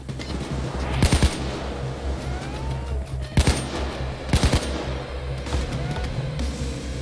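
Gunfire in Payday 2 comes as short bursts of rapid shots in three clusters over a steady low background hum, loud and close.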